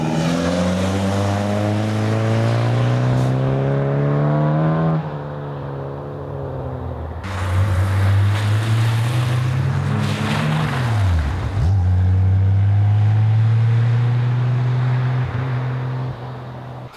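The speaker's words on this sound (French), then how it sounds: "BMW donc, qui est à son train et qui finalement là est en train de remonter là-haut" A BMW 320 historic rally car climbs a snowy mountain road in the Vercors, its engine roaring loudly and close as it revs up through gears, dropping and surging again with sharp shifts.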